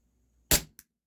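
A Taurus PT 24/7 G2 6mm CO2 pistol fires a single sharp, loud pop close by, followed by a short fainter click, with no talking.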